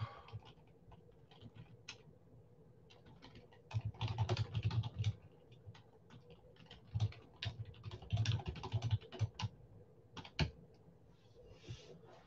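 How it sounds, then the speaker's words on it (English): Keys clack on a computer keyboard in quiet irregular bursts, fast runs of taps broken by short pauses, close up and soft, with no voices. "let me type it up"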